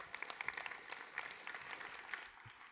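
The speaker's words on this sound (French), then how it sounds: "Vous pouvez l'applaudir, il faut toujours applaudir la présidente." Faint applause from an audience greeting a presiding official at a public debate on neighbourhoods, a soft, steady patter of many hands heard at a distance throughout.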